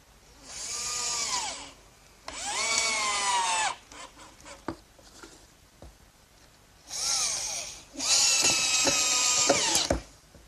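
Power drill driving screws into a wooden workbench top: four separate bursts of whining motor that rise and fall in pitch, close and loud, with quiet shuffling and clicks between them.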